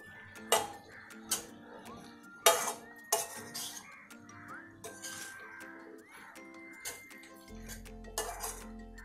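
Okra being stirred in a pan while cooking a spicy Koli-style bhindi bhaji, with a spoon scraping and clinking against the pan in irregular strokes, fairly close and quiet, ending with a low hum in the background.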